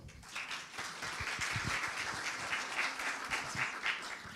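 Audience applause at a panel on promoting Peruvian coffee, continuous even clapping from a seated crowd heard at moderate distance, sustained throughout with no talk over it.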